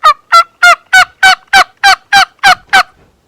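Wild turkeys gobble in a rapid series of about ten loud, evenly spaced rattling calls, close and clear over otherwise quiet morning surroundings, with no talking.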